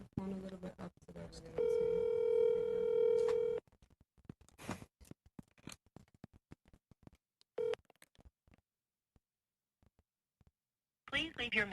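A phone call rings out with a long steady ringback tone, followed by clicks and faint fragments over a quiet line before a voicemail greeting, with people talking at the start and end.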